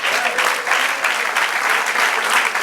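Congregation applauding during a church sermon, steady full clapping that stays loud and even from start to finish with no voices rising above it.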